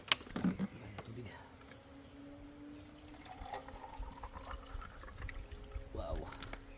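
Water pours and trickles at an outdoor street-side kitchen, a soft splashing flow heard along with people talking nearby.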